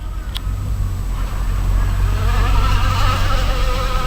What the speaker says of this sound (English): They race little boats here all weekend long.